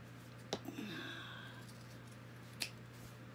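Scissors snip through the corners of a fabric baby bib, a few quiet close cuts with faint rustling between them in a hushed room.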